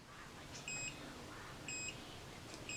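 An automatic cordless hair curler sends out faint, short high electronic beeps, about one each second, three in all, over a quiet background.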